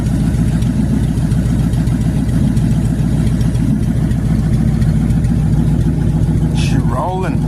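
A hot rod motorcycle engine idles loud and steady right after a choke adjustment, its low rumbling pulse continuous throughout with no talking over it.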